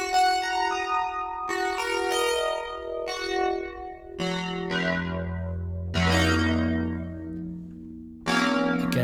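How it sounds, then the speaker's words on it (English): Bell-like synth tones from a Korg granular pitch shifter effect, fully wet, struck one after another at a slow pace, each bright ringing note sustaining and decaying, with shimmering high overtones. "Again, sounds bell-like."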